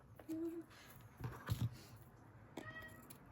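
Talkative house cat meowing indoors in a few short, faint calls spread across a quiet room, with soft background noise between them.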